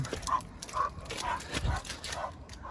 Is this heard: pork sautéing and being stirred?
no